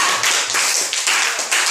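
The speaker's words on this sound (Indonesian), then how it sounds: "tepuk tangan untuk kelompok 2" Classroom applause for a student group, a dense run of hand claps filling the whole short stretch at steady loudness, with no talk over it.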